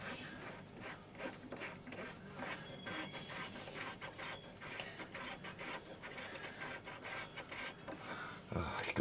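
A mini lathe chuck is turned by hand, giving a steady run of close mechanical rasping, rubbing and light ratcheting clicks that continues without a break for the whole stretch, with no talking over it.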